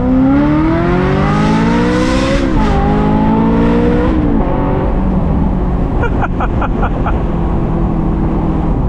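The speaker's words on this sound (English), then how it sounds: "Even the idle sound is good on this car." A Ferrari 355 F1 engine revs up and drops back, rising and falling sharply at close range, then settles into a burbly idle, loud and continuous with no voices.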